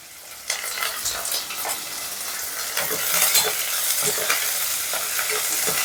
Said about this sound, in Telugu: సో కొద్దిగా రెడ్గా ఫ్రై అయ్యేంత వరకు వదిలేద్దాం.